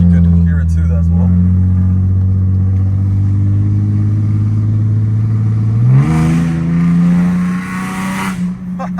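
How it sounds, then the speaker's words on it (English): A Ford Mustang's loud exhaust rumbles at a steady idle, then rises sharply in a quick rev before settling again, heard close up from inside the car with a voice talking briefly over it. "You heard this exhaust? You guys heard it, right? It's really loud."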